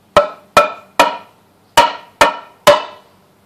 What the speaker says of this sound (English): It is simply a piece of wood, a board that you can hit with like a hammer